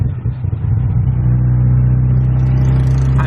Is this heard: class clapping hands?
no